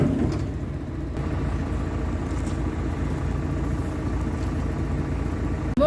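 A farm tractor's engine idles steadily nearby with a low, rumbling drone that holds even throughout, with no voices.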